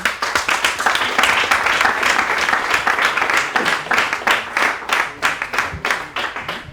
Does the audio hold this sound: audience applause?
yes